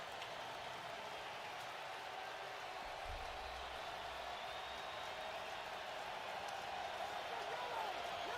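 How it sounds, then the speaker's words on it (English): A steady roar of stadium crowd noise at an NFL game between the Pittsburgh Steelers and Indianapolis Colts holds at an even, distant level throughout, with a broadcaster talking over it. "Crowd making noise here, and this 3rd down and 5."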